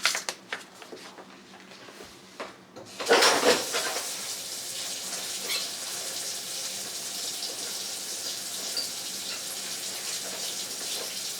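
A sink tap gushes water onto seed-starting soil, a steady close splashing rush that starts suddenly after a few quiet seconds of faint handling noises and keeps running.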